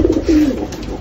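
Pigeons coo in low, repeated throaty phrases, rising and falling close by over a faint outdoor background, with no other sounds on top.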